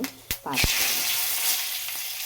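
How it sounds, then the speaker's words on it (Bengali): Cumin seeds and dried red chillies hit hot oil for a tempering after potatoes were fried, bursting into a loud, close sizzle that settles into a steady hiss, with a short bit of talk at the start. "আমি এখন ফোড়ন দেব জিরে আর শুকনো লঙ্কা"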